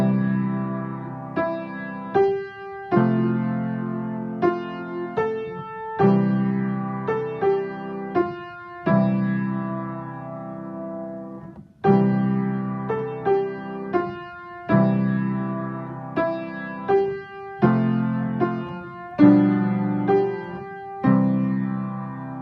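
Piano playing block chords in the left hand under a right-hand melody for a harmonization of When I Come Back, struck in regular phrases with ringing sustain and brief pauses, alone and clear.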